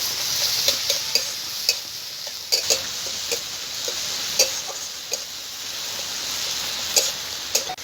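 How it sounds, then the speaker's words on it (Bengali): Chopped tomatoes and green chillies fry with spices for egg paratha, giving a steady, bright oil sizzle. Frequent sharp spatula scrapes and taps against the pan cut through it, with no talking. "আর দিয়ে দেবো টমেটো কুচি। একসঙ্গে আমি ভালো করে ভেজে নেব।"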